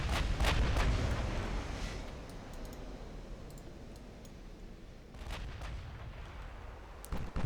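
Heavy naval guns boom in a battleship engagement in Ultimate Admiral: Dreadnoughts, with a couple of deep blasts at the start, quieter rumbling in between, and another cluster of shots near the end.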